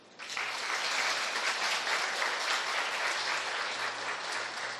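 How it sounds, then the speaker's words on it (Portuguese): Women in a church congregation clap in a broad, even burst of applause that holds steady for several seconds, moderately loud and without speech over it. "dá uma salva de palmas para eles"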